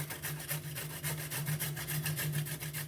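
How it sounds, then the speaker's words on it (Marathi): Peeled carrots are grated by hand for carrot halwa, a close rhythmic rasping with rapid even strokes, steady and moderately loud, with no talk. "आता मी याला किसून घेणार आहे"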